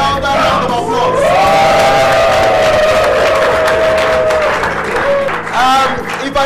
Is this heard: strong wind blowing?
no